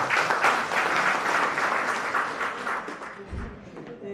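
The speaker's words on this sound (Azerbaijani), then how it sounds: "Alqışlayaq." An audience at a memorial event breaks into loud, sustained applause, many hands clapping together, slowly fading over a few seconds.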